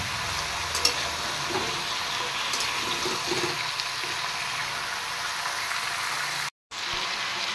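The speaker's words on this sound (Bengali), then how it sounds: "এবার একটু নুন দিয়ে ভালো করে একটু সবজিটা ভেজে নেব" Mixed vegetables for shukto fry with salt in hot oil, giving a continuous close sizzle with light stirring and a brief dropout near the end, and no voices.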